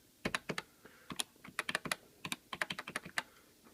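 Plastic buttons on a Casio DR-210TM adding machine are pressed one after another, a quiet, close string of sharp clicks in an uneven rhythm, some in quick pairs and clusters, with no talking.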